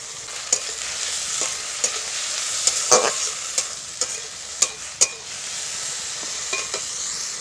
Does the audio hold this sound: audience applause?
no